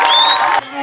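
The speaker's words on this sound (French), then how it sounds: "Applaudissez aux papas et mamans de l'APLG" Audience at a school awards and teacher-recognition ceremony cheering and whooping for parents, a loud close crowd roar with a high shout riding over it, briefly dipping before voices swell again.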